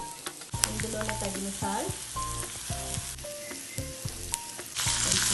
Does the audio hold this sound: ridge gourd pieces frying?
yes